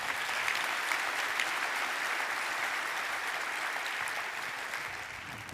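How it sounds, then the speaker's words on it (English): An audience at an academic conference breaks into dense, continuous applause, holding steady throughout and easing off only slightly at the close. "Can we give it another round of applause?"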